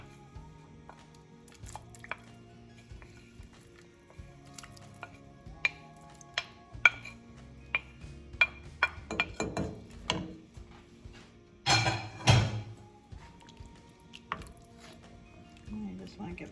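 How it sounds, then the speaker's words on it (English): Potato goulash with kielbasa being stirred in a pot: scattered clanks and scrapes of a spoon against the metal, swelling into a louder burst of stirring near the end, with a voice talking softly underneath in places. "And you just want to give it a good stir."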